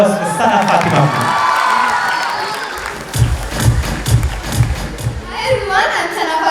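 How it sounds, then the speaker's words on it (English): An audience at a talent show grand finale cheers, whoops and shouts, then breaks into loud rhythmic clapping in the second half, with crowd voices throughout. "Can we hear a big round of applause for Sana Fatima, please?"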